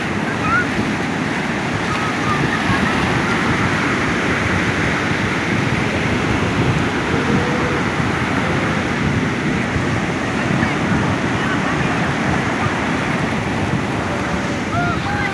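Ocean surf rolls continuously onto the beach at Pantai Sendang Barang as children play in the waves, a steady loud wash of breaking water with wind noise on the microphone and voices mixed in.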